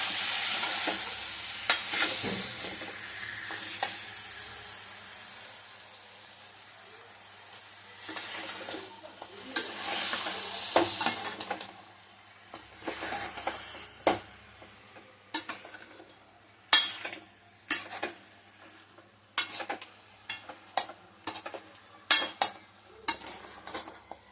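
Country chicken curry sizzles and fries in a pan while a spoon stirs it, first a steady hiss, then a run of quick, loud scraping knocks against the metal, up close with no talking.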